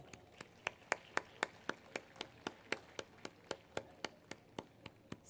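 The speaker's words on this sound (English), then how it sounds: "A big round of applause." Slow, evenly spaced claps at an awards ceremony, about two per second, each a sharp crisp snap at moderate distance, sounding like a single person or a sparse few rather than a full crowd.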